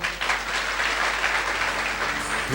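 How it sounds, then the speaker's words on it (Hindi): Loud, dense audience applause fills a seminar hall, steady and sustained from start to finish with no talk over it. "चलिए जोरदार ताली हो जाए आप सभी को"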